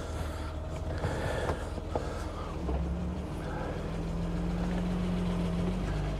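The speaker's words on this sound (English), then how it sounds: "the fan hitting a bunch of plastic sound" A BMW E30 325iX engine runs steadily with a rough, continuous mechanical whir and rattle from its fan blade hitting loose plastic, close and fairly loud.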